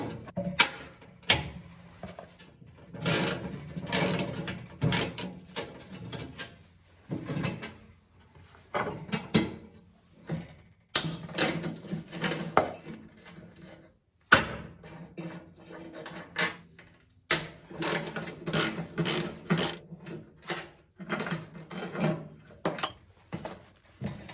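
Metal clicks, scrapes and knocks come in irregular bursts as a small vise grip is clamped and worked on a bolt of an old Craftsman 9 HP snowblower, close and sharp with quiet gaps between.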